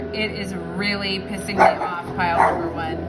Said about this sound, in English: Now my dog's going crazy.